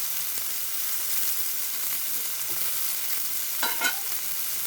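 A vegetarian dish frying in oil with radhuni spice and gaulir bora, a steady quiet sizzle close by with a couple of brief stirring scrapes near the end, no one talking.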